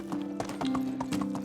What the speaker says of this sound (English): So we've got to name our horse now that it's fully grown and rideable.